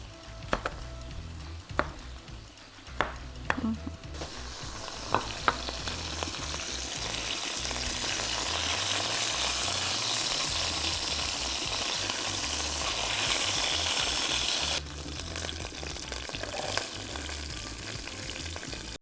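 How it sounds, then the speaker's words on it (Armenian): Chopped onion frying in the same pan the chicken was browned in, a steady close sizzle with a few taps and stirs at the start, then a loud dense hiss that eases off near the end. "Ավելացրեցի սոխը նույն սեթի մեջ, որը հավն ենք տապակել, որպեսզի այդ բոլոր համերը վերցնենք։"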